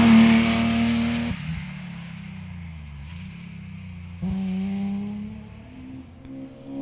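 A BMW rally car engine howls on an asphalt rally stage at Cheviot, holding a loud steady pitch before an abrupt drop, then a lower running note and a second surge of power.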